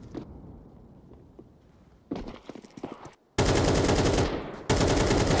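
Gunfire in a Counter-Strike 2 match: a few quieter scattered shots, then loud, close, rapid automatic bursts that continue with a brief break.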